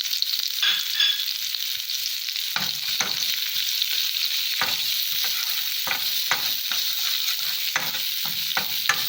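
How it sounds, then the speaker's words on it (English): Onion, garlic, chili and thyme stir-frying in a pan for Jamaican cabbage and mushroom, a constant hot sizzle broken by repeated scraping strokes of a utensil, close and steady, no talking. "So what I'm going to pour in will be onion, garlic, chili, as well as some thyme."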